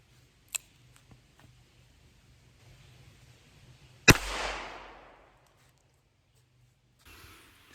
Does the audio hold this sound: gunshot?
yes